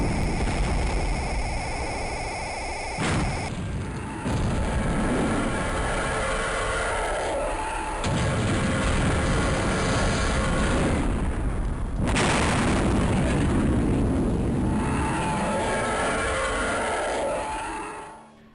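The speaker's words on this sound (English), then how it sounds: "Barely escaping the explosion with our lives, the space station is destroyed for good" A space station blowing up in a Star Wars video game: a sustained, roaring wall of explosive rumble with repeated booming bursts and crackling debris, loud throughout before fading out at the close.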